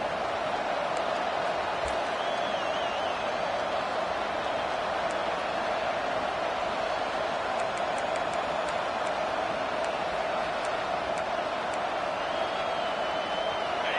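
Steady roar of a packed stadium crowd at a South Carolina college football game, a dense continuous wall of cheering and noise that holds loud and unbroken throughout, with faint whistle-like tones rising above it now and then.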